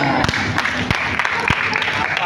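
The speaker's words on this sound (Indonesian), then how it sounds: "Tepuk tangan untuk kita semuanya." Children applaud during a visit to a fire station, a dense wash of clapping from a group, fairly loud with a few sharper claps standing out.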